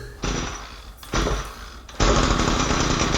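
Echo GT-225 string trimmer with a HIPA carburetor kit being pull-started on full choke indoors: three loud, rough bursts of engine noise, the first two short and sputtering out, the third catching and running steadily.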